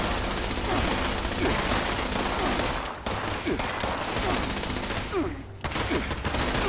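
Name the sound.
turret gunfire in video game Fallout 76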